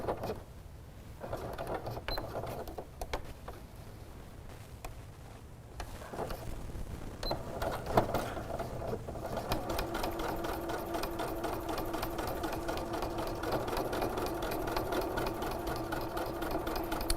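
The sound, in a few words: sewing machine stitching woven windowpane fabric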